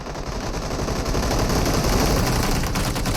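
Dense, continuous automatic gunfire from the mobile battle royale game PUBG Mobile, a loud sustained barrage of rapid shots with no talking over it.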